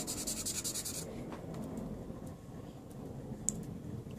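Charcoal pencil shading on paper, a soft dry rubbing and scratching that starts with a brisk burst of strokes, then continues faintly with scattered light ticks as the tone is slowly built up.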